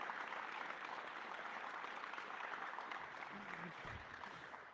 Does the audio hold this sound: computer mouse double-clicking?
no